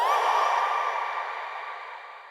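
A layered synth 'woo' swell for an EDM track, treated with dotted eighth echo and tremolo panning left and right, sustaining bright and airy then slowly fading over about two seconds.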